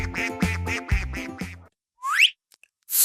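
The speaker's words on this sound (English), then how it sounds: "Can you go quack, quack, quack like a" A duck quacks repeatedly on a farm, close and loud, in an even rhythm of about six calls, followed by a brief high squeak and then silence.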